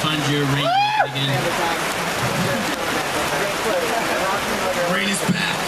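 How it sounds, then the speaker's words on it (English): Steady rain pours at an outdoor music festival, a constant hiss of drops on surfaces that carries through the whole stretch, with brief musical tones and voices rising faintly at the start and near the end. "Rain is back."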